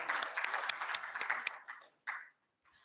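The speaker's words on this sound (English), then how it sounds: "A huge round of applause for the winners." Conference audience applauding prize winners, dense clapping that thins out and fades after about a second and a half, with a last brief burst before quiet.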